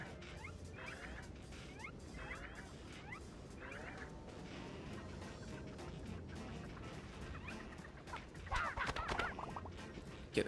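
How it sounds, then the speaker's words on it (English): Clucking and gobbling fowl calls from chickens in a Cartoon Network video game, repeated in short bursts over a steady bed of game music and noise, growing louder and busier near the end. "Get the chickens."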